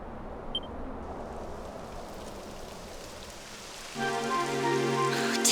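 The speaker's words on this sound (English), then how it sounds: "It would have to go and start raining, wouldn't it?" Rain in the video game Dragon Quest XI, a steady soft patter of drops on surfaces that swells and grows louder partway through, joined by a bright sustained musical tone near the end.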